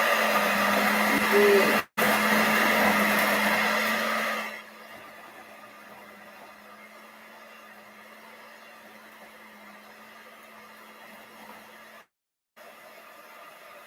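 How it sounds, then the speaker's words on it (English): An electric mixer whirs loudly through peanut butter cookie dough for about four seconds with a brief cut, then drops to a faint, steady low hum; a short spoken word is heard. "We're going to turn our mixer back on."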